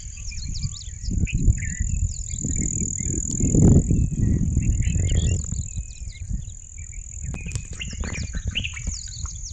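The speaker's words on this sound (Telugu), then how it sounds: "పక్షుల సౌండ్ ఒక్కోసారి వినండి" Birds chirp and tweet at dawn in the Gandikota canyon, several calls scattered over a steady high insect-like drone, with low rumbling ambient noise underneath, moderately near and fairly continuous.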